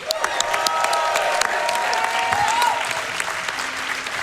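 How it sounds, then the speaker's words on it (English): Audience applause at a Games Done Quick speedrun marathon event, a steady burst of clapping from a large crowd lasting several seconds, close and fairly loud with light cheering mixed in. "Let's get a round of applause for them."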